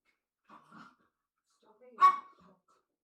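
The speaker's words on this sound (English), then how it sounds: "You can probably hear my dog barking in the background" A dog barks a couple of times from another room, muffled and distant, with a softer short sound before a louder single bark in an otherwise quiet space.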